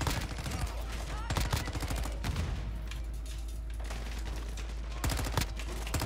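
Rapid automatic bursts from a Honey Badger rifle in Call of Duty, several short volleys of sharp cracks spread across the clip over a steady low hum of game ambience.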